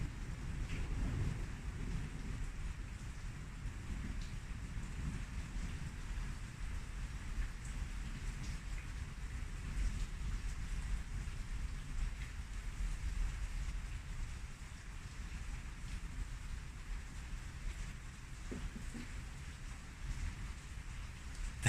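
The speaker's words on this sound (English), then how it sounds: "Can you guys hear the rain?" Steady rain falling outside during a storm, a dense, even hiss with a low rumbling wash underneath, constant and moderately loud throughout with no talking.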